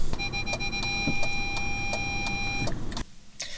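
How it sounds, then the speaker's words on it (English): Parking sensors in an Audi A4 beep in a quick regular series of short tones over a low car-cabin hum, then stop abruptly near the end. "we have parking sensors."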